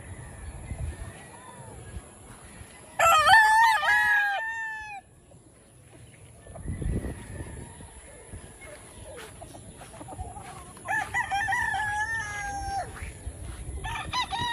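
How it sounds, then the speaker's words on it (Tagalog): Roosters on a large poultry farm crow loudly in a sharp burst, then again more faintly later, over a continuous background of clucking and rustling; a voice speaks briefly in the middle. "pakadaming manok."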